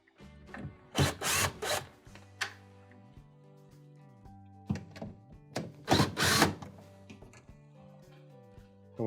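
Phillips screws are backed out of a panel inside a Frigidaire refrigerator during an ice maker repair. Close, irregular clunks and rattles come in two busy bursts, with quiet handling noises between them and no talking.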